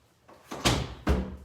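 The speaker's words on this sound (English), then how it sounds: "let me shut this door" A room door swung and shut indoors, two solid thuds about half a second apart, close and fairly loud, with faint voices in the background before the first impact.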